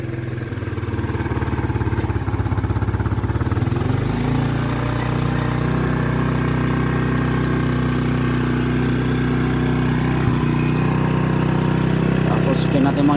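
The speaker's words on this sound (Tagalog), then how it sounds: "Tapos ibilit natin ng konti para uminit yung makina." A Honda XRM motorcycle engine idles steadily and close by while warming up, a low, even putter that settles into a constant drone after a few seconds.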